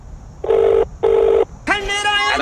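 Two short electronic ringback tones sound close by, evenly spaced, followed by a brief burst of a voice or tone at the end.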